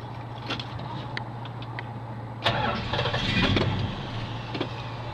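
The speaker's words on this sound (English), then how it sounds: "So let's start this guy up here." A 1969 Plymouth Roadrunner cranking over, with a steady starter whir and then a brief surge as the engine catches partway through, heard close with no talking.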